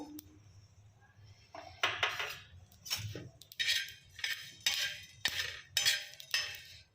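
Metal utensils clink and scrape against a pan as roasted millet is scooped out, a run of sharp irregular clinks close by with a low hum beneath.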